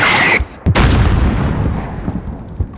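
A mortar shell explodes in a Call of Duty: Modern Warfare embassy battle, a loud booming blast with a second heavy impact, followed by a long rumbling decay and scattered debris.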